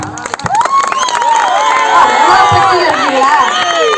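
A live comedy show audience in Tamil Nadu claps and cheers, with loud continuous crowd noise, whoops and children's shouts layered over steady applause, close and full throughout.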